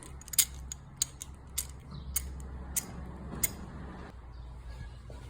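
Ratchet with an extension loosening an 8mm bolt on the rear brake reservoir of a 2013 Suzuki GSXR 1000, sharp clicking strokes repeated at a steady rhythm, close and clear over a low background hum.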